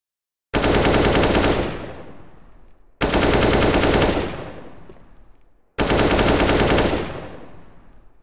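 Three long bursts of automatic gunfire from a gun in Counter-Strike 2, each rapid loud volley lasting about a second and trailing off, separated by short silences.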